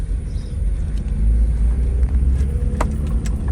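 A 2004 Hyundai Accent with a newly replaced clutch drives over a rough, potholed road, giving a steady, loud low rumble of engine and tires with small knocks from inside the cabin, no talking.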